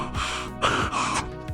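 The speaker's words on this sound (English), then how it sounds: "the head started breathing like a fish trapped inside a paper bag" A severed head in a horror film gasps for breath with several harsh, wheezing intakes close up, each breath rasping and strained.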